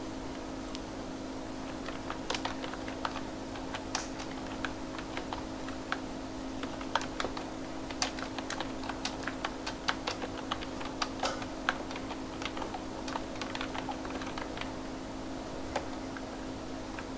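Someone types sentences on a computer keyboard during an HTML lesson, producing a long run of quick, uneven, moderately close key clicks over a low steady hum, with no speech.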